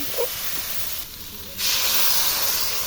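Vegetables with salt, turmeric and chili powder fry in a pan, giving a loud, steady sizzling hiss that briefly drops away and then returns stronger, with no voices.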